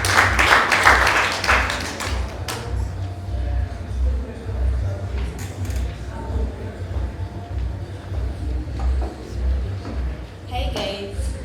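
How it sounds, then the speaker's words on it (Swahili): An audience at a Kenyatta University nursing students' dinner at Maple Inn Hotel applauds as the speaker comes up, a burst of clapping at the start, then a steady room murmur with voices and scattered claps throughout. "Wapi makofi yake akikuja?"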